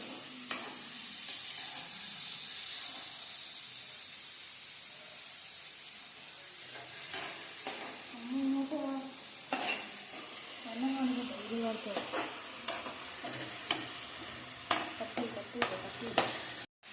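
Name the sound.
chili and onion sautéing on low flame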